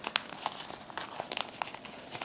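Thin freezer paper is crinkled and peeled loose from the back of appliqué fabric with a long pin, giving close, quiet, scattered crackles and small ticks with no talking.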